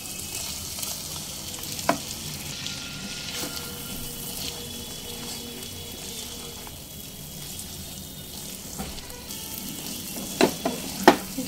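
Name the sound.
stirring fried pointed gourd into sizzling spice masala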